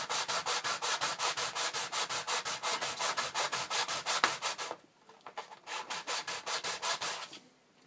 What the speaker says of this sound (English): Apologies if you can't hear me properly while I'm rubbing this down.